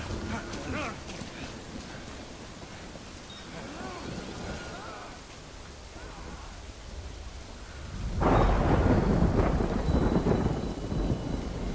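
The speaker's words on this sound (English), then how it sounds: "Good thing it was raining." Rain and thunder in the video game Death Stranding: a steady hiss of rain, then a deep rumbling thunderclap swells loud near the end, with voices speaking earlier.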